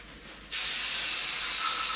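Brake cleaner sprays in a sudden, steady aerosol hiss onto a motorcycle handlebar, starting after a brief quiet moment and continuing loud and close to the end.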